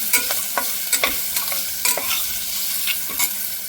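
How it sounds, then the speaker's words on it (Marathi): Peanuts sautéed in a pan for a one-pot khichdi, with sharp spatula scrapes and clatters of nuts against the metal over a continuous light sizzle, close and fairly loud. "शेंगदाणे जरा परतून घेऊया छान."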